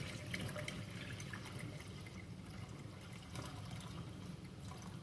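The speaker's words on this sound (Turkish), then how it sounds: "Şimdi süzme aşamasına geçeceğiz." Homemade lemonade trickles through a fine mesh strainer in a kitchen, a soft steady pour of liquid with faint dripping, low and continuous throughout.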